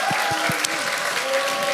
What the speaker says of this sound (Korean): 박수 주시오